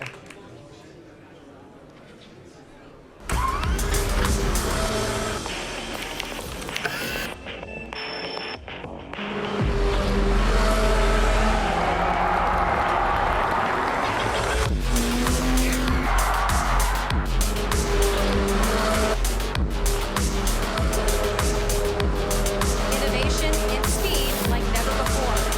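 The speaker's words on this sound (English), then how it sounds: "A2RL Abu Dhabi Autonomous Racing League 2024." Autonomous race cars at the A2RL Abu Dhabi Autonomous Racing League 2024 roar loudly and steadily, with engine noise swelling, passing and sustained over an event crowd and commentary-like talk after a quieter opening.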